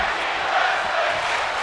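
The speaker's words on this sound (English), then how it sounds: "The crowd chanting tag team wrestling." A wrestling arena crowd during a tag team match chants steadily in unison, a dense, sustained roar of many voices filling the hall with a loose rhythmic pulse.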